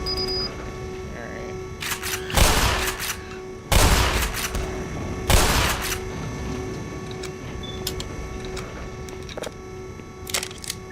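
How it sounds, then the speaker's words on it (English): Anti-infantry turrets in Black Mesa let off several separate loud bursts of rapid fire over a steady electronic hum, with voices talking between the bursts. "Are these like anti-infantry turrets?"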